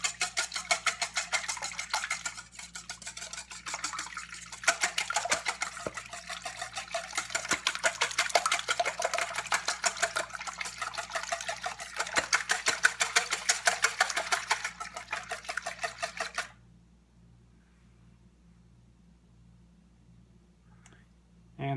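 A whisk beats an egg mixture seasoned with black pepper in a bowl, producing fast steady rhythmic clicking for about sixteen seconds over a low background hum before stopping.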